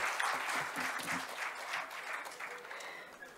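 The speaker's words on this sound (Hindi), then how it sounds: "जोरदार जोरदार तालियां बजाइए" A crowd claps loudly at an evening stage programme during a three-day Hindon festival in Ghaziabad, dense applause that swells early and gradually thins toward the end.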